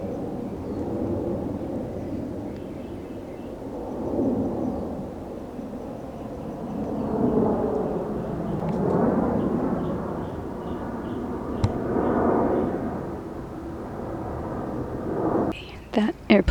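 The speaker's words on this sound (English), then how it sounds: "That airplane was pretty loud, so I thought I'd let it go over" A loud airplane rumbles overhead, its drone swelling and fading in waves for a long stretch before a few sharp knocks at the end.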